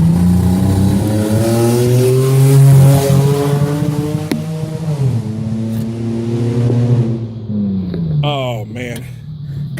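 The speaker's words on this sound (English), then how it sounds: "That was an SUV. That sounds that goddamn horrible." A loud SUV roars past close by, its engine note rising and then falling away, with a voice talking over it and clanking metallic knocks near the end.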